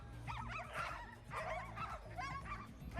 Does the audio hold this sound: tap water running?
no